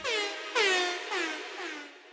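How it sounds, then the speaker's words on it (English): An air horn sample from the TOXIC trailer music blasts in four loud, brassy honks, each swelling and then fading into a lingering tail, heard alone. "the most important and memorable sound in the entire trailer, it's the air horn"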